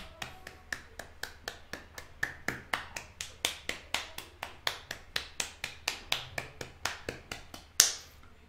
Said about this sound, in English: I had a clap for that one